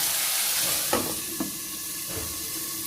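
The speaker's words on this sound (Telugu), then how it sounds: "కొద్దిగా 10 నుండి 20 మెంతి గింజలు కూడా వేసేసుకొని ఒకసారి కలిపేసి మూత పెట్టేసి పచ్చిమిరపకాయలని మగ్గనివ్వాలి" Green chillies with fenugreek seeds cooking in a covered pan for a green chilli chutney, giving a steady, close hiss and sizzle with a few faint knocks and clinks over it, with no voices.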